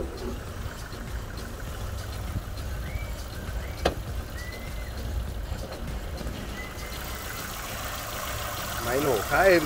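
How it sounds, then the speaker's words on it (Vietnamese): A 2015 car with a 1.5-litre manual engine idles with its bonnet open, a steady, fairly smooth hum running the whole time under faint background noise, with a louder burst near the end. "Máy nổ khá êm các bác nhé."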